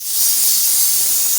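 Pressure cooker on a fire releasing a continuous sharp hiss of steam while chickpeas cook, loud and close, steady for the whole moment.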